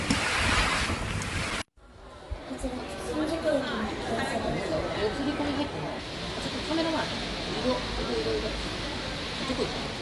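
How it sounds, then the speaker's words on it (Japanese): Heavy typhoon rain and wind lash Okinawa, with a steady roar of gusts buffeting the microphone and a brief drop-out early on, while a person talks over the storm. "雨がだいぶ降ってます"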